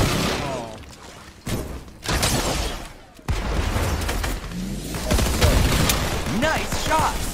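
Rapid bursts of gunfire in the Fortnite video game, a dense barrage of sharp, loud shots and booming impacts in quick, uneven succession, with voices murmuring underneath the shooting.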